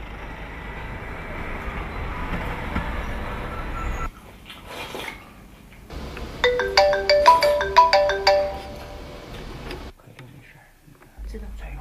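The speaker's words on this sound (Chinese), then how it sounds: "突然收到向他提供线索的线人电话" A mobile phone rings with an incoming call, its melodic ringtone notes loud and close for several seconds after a stretch of low rumbling background noise, then cuts off.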